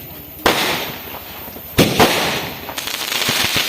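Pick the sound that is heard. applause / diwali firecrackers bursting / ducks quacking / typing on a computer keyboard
diwali firecrackers bursting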